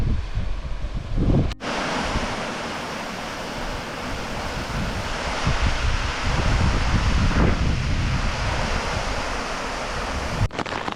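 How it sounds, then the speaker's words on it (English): Waterfall in the Desolation Wilderness, a steady broadband rush of falling water filling the whole clip, loud and close, with wind buffeting the microphone and no talk. "Now look at that beautiful waterfall."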